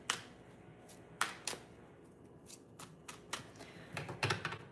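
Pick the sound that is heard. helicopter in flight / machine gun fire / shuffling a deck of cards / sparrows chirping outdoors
shuffling a deck of cards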